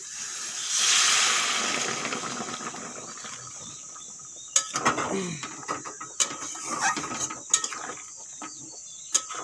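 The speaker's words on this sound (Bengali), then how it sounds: "এখন দিয়ে দেবো জল আমি এখানে গরম জল ব্যবহার করছি" Hot water is poured into a pot of cooking breadfruit and prawns, a brief rushing hiss early on, followed by scattered clinks and clatters of the pot and utensils.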